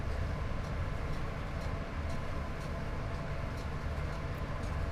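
A locomotive runs at speed in a train simulator game, heading toward Lancaster with cab heating on: a steady, loud rumble of wheels on rails with faint rhythmic ticks of rail joints, constant throughout with no voices.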